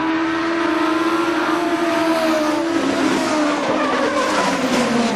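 Stock cars race at KilKare Speedway on the final lap, a loud, continuous roar of engines with rising and falling pitch as the pack sweeps past, with tire squeal in the mix.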